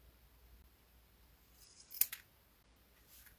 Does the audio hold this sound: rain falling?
no